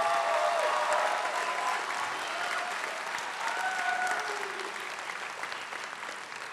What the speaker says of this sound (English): give a round of applause for your support system here tonight